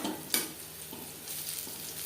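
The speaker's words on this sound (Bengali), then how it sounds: "2-3 মিনিট হাই টু মিডিয়াম ফ্লেমে নাড়াচাড়া করে নেব" Okra and potatoes with slit green chillies fry in oil in a pan over high to medium flame, giving a continuous close sizzle with a spatula knock near the start and soft stirring swishes; no talking.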